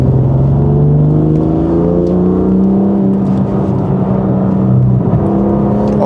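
A 2019 BMW F87 M2 Competition accelerating in Sport Plus mode, its engine a loud, steady drone with rising harmonics as revs climb, heard from inside the cabin without talk.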